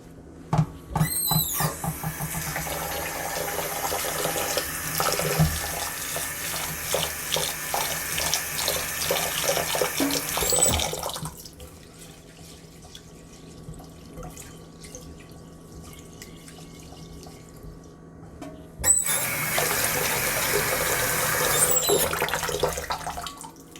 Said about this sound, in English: Now you want to wash your rice until you see the water becomes clear.